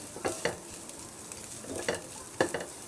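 Batata poha of flattened rice and potato being stirred and mixed in a pan: a soft sizzle with several quick scraping strokes of a spoon, fairly quiet and close.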